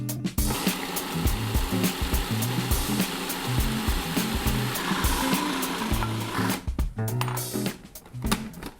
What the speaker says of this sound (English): And then grind it all up.